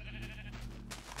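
A single short bleat from a sheep in a video game, close and clear above a steady low background hum.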